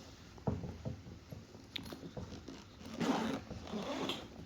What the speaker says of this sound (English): Some good quality zippers.